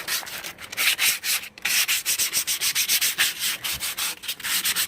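Sandpaper rubs loose paint and rust off a Char-Griller Pro Champ 1624 grill, close and loud in quick repeated back-and-forth strokes with no voices.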